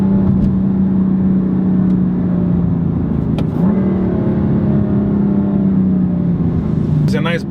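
A BMW M4 Competition engine drones steadily nearby in fourth gear, its pitch slowly dropping, with a few sharp exhaust pops and crackles as the throttle eases off.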